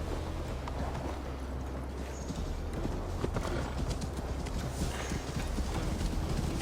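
Horses' hooves clip-clop steadily as mounted riders set off in Assassin's Creed Valhalla, a continuous trotting patter over a low rumbling ambient bed, with no voices.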